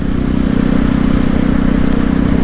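A Jawa 42 motorcycle engine running while being ridden, with a steady, loud low drone and a rhythmic single-cylinder thrum, with no talking.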